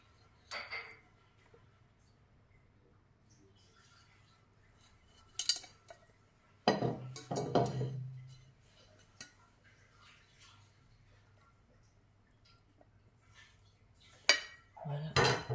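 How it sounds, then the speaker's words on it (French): Metal utensils clink against a bowl and sieve while white chocolate mixture is poured through, with a few sharp, scattered clanks and rattles separated by quiet pauses, close up and otherwise still. "Et on verse à travers la passoire."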